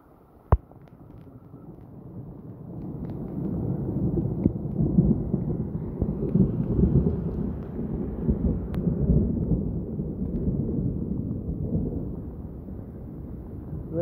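Deep, continuous thunder rumbling through a storm, with a sharp crack near the start and heavy low roaring that swells and lingers throughout.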